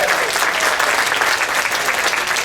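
An audience applauds aboard the Quantum of the Seas in the Two70 venue, producing a steady, dense wash of clapping that holds at an even level throughout with no voices on top.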